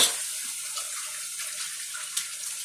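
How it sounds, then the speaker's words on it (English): Water runs steadily from a tap while hands are washed at a sink, a constant soft hiss at moderate distance with a few small splashes. "You go over here and wash your hands."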